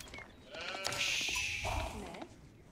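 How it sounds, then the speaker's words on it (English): Sheep in a Byzantines ranked match of a strategy video game let out a couple of close, wavering bleats over faint background game noise. "Let's get all these sheep."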